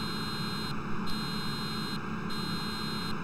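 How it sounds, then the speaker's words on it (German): Electronic horn warning signal from a vehicle in Farming Simulator 15, a steady buzzing tone that repeats in regular pulses, each broken by brief gaps, loud and upfront against a constant hiss. "Es klingt entweder wie der Rückwärtsgang eines LKWs, nur ein paar Oktaven tiefer. Oder wie so eine kleine Alarmanlage."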